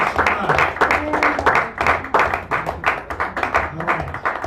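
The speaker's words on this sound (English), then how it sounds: "Kim Shaw, give her another round of applause, please" Audience applause at a poetry reading in a San Francisco cafe, steady clapping from a small crowd that fills the whole stretch, close and lively with a few voices mixed in.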